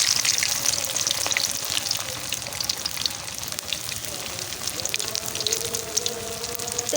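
Soybean chunks fry in hot oil in a village kitchen, a steady close crackling sizzle that runs throughout with light clinks and stirring.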